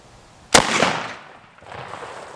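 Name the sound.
rifle shot, 147 grain FMJ steel core, at Kevlar helmet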